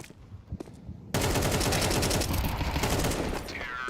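Pistol gunshots in a Counter-Strike esports match, with sparse faint shots at first, then a loud, dense burst of rapid overlapping fire that continues steadily before easing slightly near the end.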